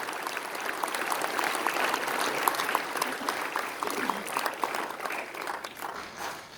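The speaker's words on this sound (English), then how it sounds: "A round of applause, ladies and gentlemen, for Tanya Madhubhashini." A crowd at a boys' final awards ceremony for a Shakespeare competition applauds a performer, the clapping steady and even throughout before thinning slightly at the end.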